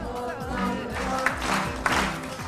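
Young children at a lively gathering clapping hands and snapping fingers in a steady repeating rhythm, with a couple of sharper claps standing out over a soft musical backdrop.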